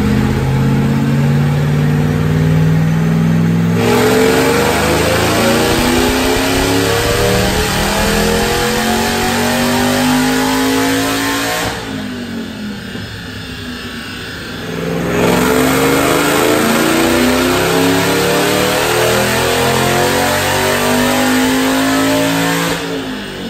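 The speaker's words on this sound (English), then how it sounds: "Let's make some dyno pulls." A 2008 Saleen Mustang with a Brenspeed Stage 3 upgrade and QTP exhaust cutouts revs on a dyno, loud and close, with rising engine pitch through long pulls and a brief drop in power partway through; no talking.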